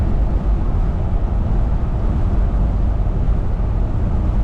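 A 1979 GMC G25 Vandura van's engine runs at about 2,500 RPM while cruising at 100 km/h, a loud, steady low drone mixed with road rumble, with no voices.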